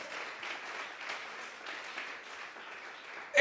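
A church congregation at a general vigil applauds together as an offering to God, a steady wash of clapping from many hands heard at moderate distance throughout.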